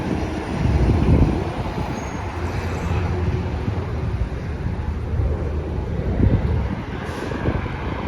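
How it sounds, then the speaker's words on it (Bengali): Train at Lynbrook railway station, a loud continuous low rumble of rail and traffic noise outdoors, swelling slightly at moments, with no clear talk. "লিনব্রুক রেলওয়ে স্টেশন"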